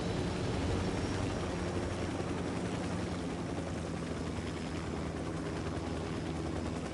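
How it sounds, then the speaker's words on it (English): Helicopter in a tier-mode ambush level of a video game, a steady loud rotor and engine drone that holds unbroken for the whole stretch, with no voices over it. "There's a helicopter right there."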